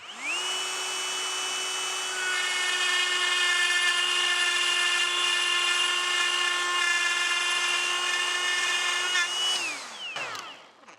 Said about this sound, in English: I'm just using a die grinder with a burr on it to just cut out a little groove